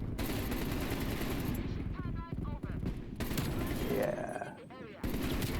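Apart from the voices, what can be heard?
AK-47 gunfire in a video game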